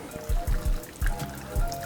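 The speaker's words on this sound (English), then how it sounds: "now we're going to pour some avocado oil over our wings" Avocado oil is poured over raw chicken wings, a short burst of dribbling and splattering liquid in a few close pulses.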